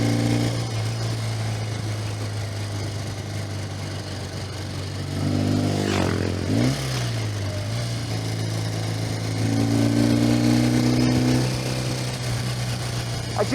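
A motorcycle ridden along mountain roads in Austria, its engine a steady, close drone that rises in pitch and swells briefly midway, then settles back into an even hum.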